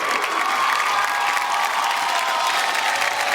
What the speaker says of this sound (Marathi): त्या जोरदार टाळ्या होऊन जाऊ देत.